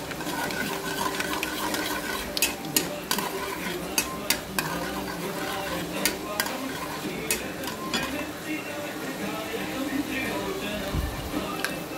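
Fenugreek seeds fry in a pan as a tempering for mango drumstick dal, giving a constant sizzle punctuated by repeated crisp clicks of a stirring utensil, with a voice speaking over it.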